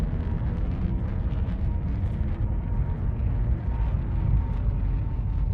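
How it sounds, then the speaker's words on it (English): The EVR-1 rocket lifts off on its maiden flight in a metaverse game, a continuous heavy rumbling roar with crackling texture, loud and steady throughout with no voices. "And we have a liftoff. EVR-1 on its maiden flight."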